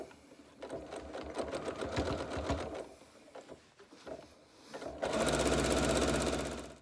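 A sewing machine stitches a quilt border through all the layers, running in a rapid mechanical whir in several stretches with short pauses between, ending in a loud steady run; close and clear with no talking.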